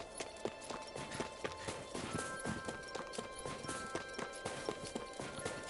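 Horse hooves clip-clop steadily in Tales of Arise, a quick, even rhythm of moderately loud steps running through the whole stretch over soft background game ambience.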